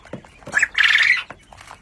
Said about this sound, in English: So these are our quail. There's about 100 quail girls in here.